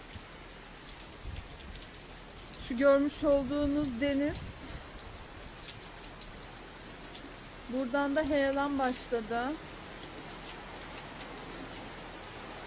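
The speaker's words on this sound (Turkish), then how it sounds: "Yağmur yine hızlandı." Heavy rain pours steadily during a flood on the seafront at Ayancık, Sinop, a constant broad hiss throughout with someone speaking over it in two short stretches.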